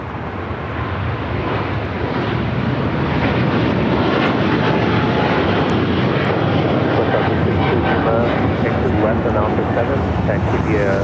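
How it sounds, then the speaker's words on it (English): A Philippine Airlines Boeing 777-300ER takes off from LAX bound for Manila, its engines a loud, continuous broadband roar with airy rushing that swells and holds throughout, close and dominant. "This is Philippine Airlines 113 taking off to Manila on the 777-300ER."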